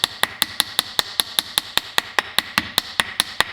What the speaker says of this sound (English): So I'm going to use my rawhide hammer, which of course will not damage any metals.